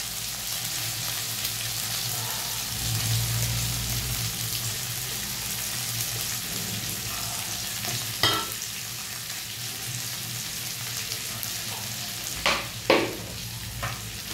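Chunks of elephant foot yam frying in a pan with already-cooked tomatoes for a dry spiced sabzi, a continuous close sizzle with occasional clinks and scrapes of a stirring spoon.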